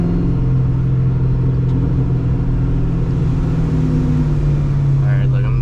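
A car engine fitted with a 78mm big-bore throttle body hangs at about 2000 rpm with the clutch pressed, a steady, close, droning hum throughout, with some voices faintly underneath.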